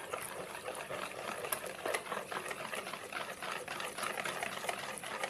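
Crepe batter of flour and water being stirred in a bowl: a steady, continuous wet sloshing and scraping with small irregular clicks, close and moderately loud, with no voices.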